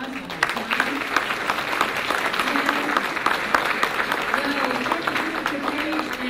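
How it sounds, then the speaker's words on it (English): Sustained round of applause from an audience at a Mississippi Associated Press broadcasters awards ceremony, steady dense clapping through the whole stretch with faint voices murmuring underneath. "Let's give them a round of applause one more time."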